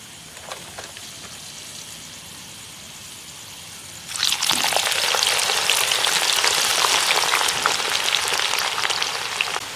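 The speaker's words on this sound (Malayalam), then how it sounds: "നമുക്കിതെല്ലാം ഒന്ന് വറുത്തെടുക്കാം" Jackfruit slices dropped into hot oil for deep frying: after a quiet stretch with faint crackles, a loud, dense sizzling hiss erupts and bubbles on continuously, with fine popping spatter, close and without talk.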